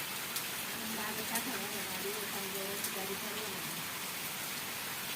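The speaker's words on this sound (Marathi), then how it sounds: "पाऊस जोरात आला" Steady, dense hiss of heavy rain falling on surfaces, with faint voices murmuring in the background.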